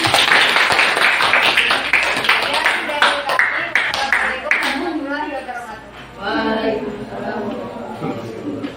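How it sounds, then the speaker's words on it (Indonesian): A class of teachers at a training session applauds a presenting group, brief scattered clapping mixed with chatter, then talking voices carry on as the clapping fades. "Kita beri tepuk tangan dulu ya buat kelompok 4"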